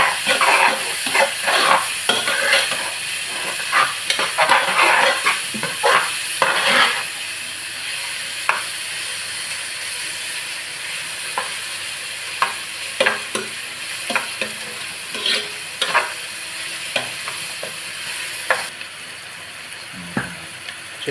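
Onions fry for chicken curry, sizzling loudly in hot oil while a utensil scrapes and stirs them in the pan, strong stirring strokes at first, then lighter intermittent scrapes over a steady sizzle.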